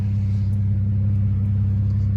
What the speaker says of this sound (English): Here's the exhaust.